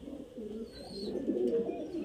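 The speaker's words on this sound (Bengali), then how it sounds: "দেখতে পাচ্ছেন খুব সুন্দর কোয়ালিটির পায়রা" Highflyer Giribaz pigeons coo in a steady low burbling that rises and falls for the whole stretch, close by and moderately loud, with no one talking over it.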